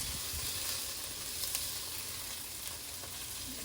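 Butter sizzling in a hot pot as the base for corn chowder, a steady close crackling hiss that holds evenly throughout with a few faint pops.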